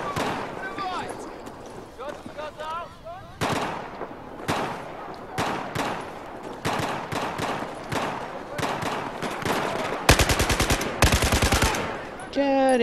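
Enemy gunfire in Battlefield 4, repeated sharp bursts of automatic fire and single shots, with a fast rapid-fire stretch near the end, while someone talks over parts of it.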